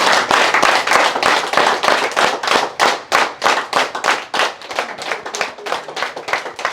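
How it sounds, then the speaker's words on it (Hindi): A crowd at a farmers' gathering claps loudly, the dense hand claps pulsing in rhythmic waves roughly every third of a second, close and strong from start to finish with no voices over them. "एक बार जोरदार तालियां बजाएंगे।"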